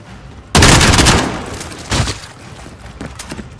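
Gunfire in the Call of Duty: Modern Warfare campaign mission, a loud sudden burst of rapid shots that decays over a second, followed by a second shorter burst and scattered fainter shots.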